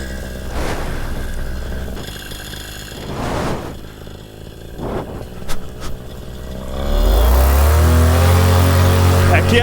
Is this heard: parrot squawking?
no